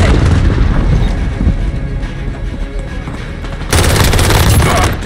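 Heavy booming blasts from a precision airstrike in Call of Duty Modern Warfare, a dense rumbling barrage that eases midway then surges loud again near the end, with no talk over it.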